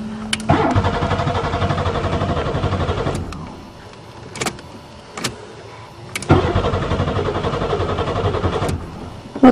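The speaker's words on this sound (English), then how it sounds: "It started perfect after it sat a few years." A Buick Regal engine that had sat unused for a few years cranks and fires up, running loud for several seconds, dropping briefly, then catching and running again, with sharp clicks between attempts.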